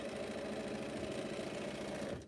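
A sewing machine runs steadily, stitching along bulky humped quilt seams at a continuous even drone that stops abruptly at the end.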